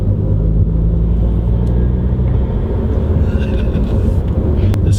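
Audi A3 8P with a new intake accelerating at light throttle, a loud, steady low engine rumble and drone heard from inside the car, with faint hissy intake noise near the end.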